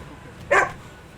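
A blue pit bull gives a single short, sharp bark at close range, loud against a quiet background.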